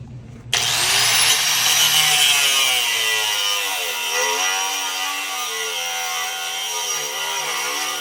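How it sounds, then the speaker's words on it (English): A Harbor Freight 40-grit cutoff wheel slices through the exhaust pipe of a 2021 Ford F250 during a muffler delete, a loud, close, piercing whine that starts suddenly and sags in pitch as it bites, running continuously for about seven seconds with no talk. "these Harbor Freight cutoff wheels, the 40 grit, cut like a madman"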